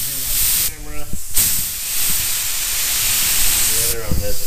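A spray gun hisses steadily under air pressure while spraying 2K high build primer, a loud continuous hiss that fills the whole stretch, with brief bursts of someone talking over it near the start and end.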